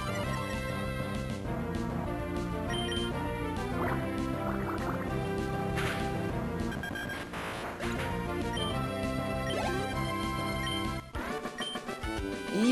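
Pokémon Emerald's Water Gun attack plays as a dense, bubbly gush of splashing and dripping blips over the game's chiptune music, with a brief cut near the end.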